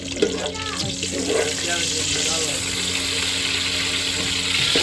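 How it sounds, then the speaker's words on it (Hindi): Water running and splashing steadily, poured into a bottle in a home kitchen, a continuous rushing stream heard close with faint voices in the background. "थोड़ा सा डाल दो इनको बोतल में पानी"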